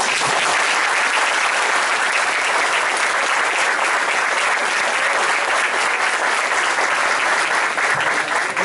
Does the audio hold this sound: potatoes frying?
no